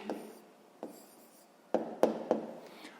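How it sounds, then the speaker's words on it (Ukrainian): A pen writes out the answer to a math problem on paper, with short scratchy strokes in separate bursts, close and fairly quiet, with no talking. "Ну що ж, записуємо тоді відповідь."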